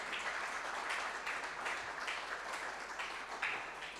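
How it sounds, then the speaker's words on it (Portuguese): An audience applauds steadily, a dense wash of many hands clapping at an even level, heard somewhat distant throughout. "Mais uma vez, uma salva de palmas,"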